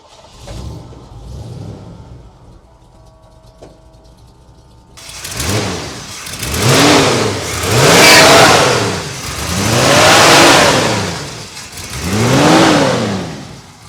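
A 1979 Ford Bronco's 5.8-litre V8 with twin exhaust cranks and fires up after a quiet start, then revs loudly in four or five rising and falling surges, close by.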